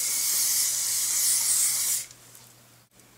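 A steady hiss of aerosol spray runs for about two seconds, then cuts off, leaving a quiet background hum.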